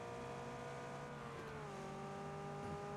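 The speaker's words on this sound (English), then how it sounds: "it's the engine noise that they've given it." Video game car engine drones steadily at a faint level, its pitch sliding slightly as it revs and shifts, with a small bump near the end and no talking over it.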